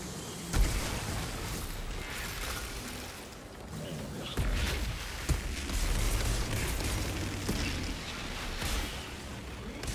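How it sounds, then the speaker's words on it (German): A video game explosion: a deep rumbling boom with layered bursts and crackling debris, loud and dense, then continuing rumble and scattered impacts; a voice is faintly present underneath. "endlich mal eine gescheite Explosion da."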